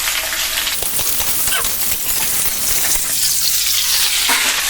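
Mango pieces for pickle frying in mustard oil, giving a loud, continuous close-up sizzle with a hissing crackle and occasional stirring scrapes.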